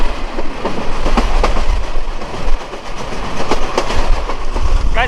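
A commuter train rolls along the rails at about 60–65 km/h in heavy fog in Lalmonirhat, Bangladesh, with a loud, continuous rumble and rhythmic clickety-clack of wheels over track joints, heard from on board.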